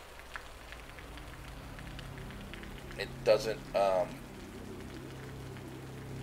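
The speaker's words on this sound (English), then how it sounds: "It's raining." Rain falls in the sci-fi survival game Osiris: New Dawn as a steady, soft patter throughout, with a brief spoken voice and a couple of short louder sounds partway through.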